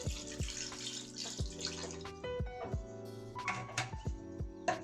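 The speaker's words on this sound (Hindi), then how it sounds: "फिर हम इसमें शामिल करेंगे पानी" Water pours into a cooking pot while paye (trotters) are being prepared, a close, gurgling stream with repeated splashes and sloshing bursts, alone without talk.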